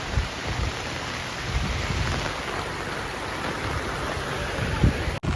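Torrential monsoon rain pours down in a Gujarat village: a dense, unbroken roar of heavy rainfall close by, with low rumbling beneath it and no break in the downpour.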